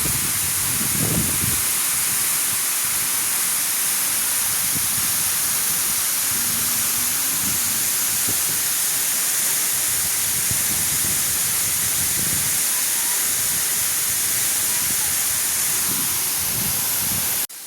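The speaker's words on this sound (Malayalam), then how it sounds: "ആ വെള്ളം പോകുന്ന നോക്കിക്ക്" Water of Aruvikkachal waterfall in Kottayam pours in a loud, steady broadband rush that fills the whole stretch, with no pauses and no talk.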